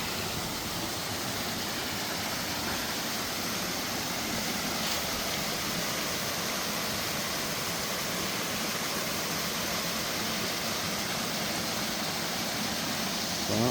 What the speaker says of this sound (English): got a beautiful little waterfall here to admire.